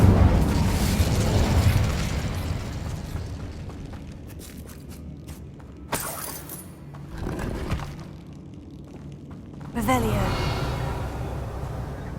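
Spell blasts from Bombarda and Incendio in Hogwarts Legacy, loud booming bursts at about six, seven and ten seconds over a rumbling game backdrop, with spoken voices around them.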